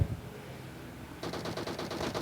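After a quiet start, rapid automatic video game gunfire sprays in a fast steady burst lasting about a second, sharp and close.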